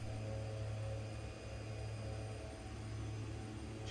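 Steady low engine drone of a simulated airplane in the X-Plane flight simulator after the throttle is pulled back, a constant hum with airy noise, even and unchanging throughout.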